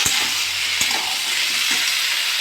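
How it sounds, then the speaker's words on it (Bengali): Onion and potato for aloo posto are stirred in a hot pan, a continuous close sizzling hiss broken by a few soft scrapes of the spoon, with no voices. "এবার ভালো করে এটাকে আমি নাড়িয়ে নেবো"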